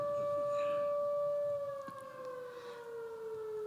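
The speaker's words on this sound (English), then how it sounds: "after the sirens" Civil defense style sirens wail outdoors during a high school graduation ceremony, steady rising-and-falling tones that hold loud and then drift slightly lower and softer, sounding alone without talk.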